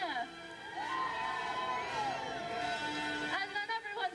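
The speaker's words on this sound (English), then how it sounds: "they turned to the sisters and they gave out a great big cheer" Children and an audience at a live storytelling show at Dutch Wonderland cheer and whoop loudly, a sustained swell of shouting voices.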